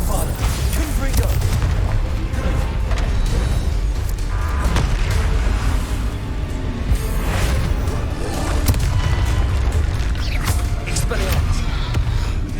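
Spell explosions from Bombarda and Confringo in the Hogwarts Legacy video game: repeated loud booms and crashing bursts over dense, busy combat noise, with a voice talking over parts of it.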